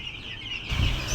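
A batch of about 250 broiler chicks being raised peep and cheep in a noisy cluster, their high calls growing louder and busier midway through the short stretch.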